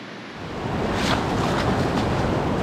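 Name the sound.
ocean surf waves on the beach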